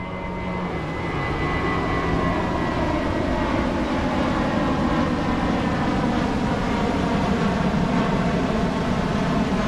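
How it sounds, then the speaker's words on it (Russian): A fixed-wing airplane passes low overhead above a beach on Samui, its loud, steady jet roar filling the whole stretch without letting up. "Самолет! Самолет!"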